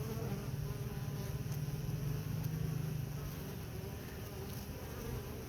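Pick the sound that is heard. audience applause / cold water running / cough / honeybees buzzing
honeybees buzzing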